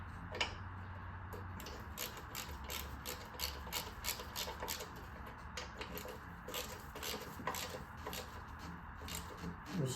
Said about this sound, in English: I'm going to tighten these ones up. Then I'll torque them after.